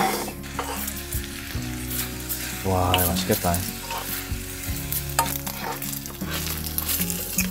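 Rice stir-fried in a pan at a spring cherry-blossom campsite sizzles steadily, with bursts of stirring and scraping near at hand while people talk over it.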